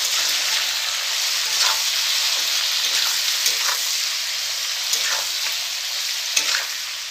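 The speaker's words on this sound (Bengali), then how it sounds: "তো সব দেওয়ার পরে কিন্তু এটাকে আমি ভালো করে নাড়াচাড়া করে নেব।" Flat beans cooked with mustard, turmeric and chilli powder fry in a pan, a constant close sizzle broken by repeated scraping and stirring strokes every second or so.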